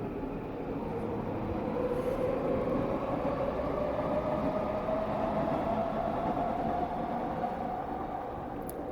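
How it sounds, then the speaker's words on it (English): A train passing at a distance, a steady low rumble and rolling drone that holds evenly throughout with no talk over it. "Train."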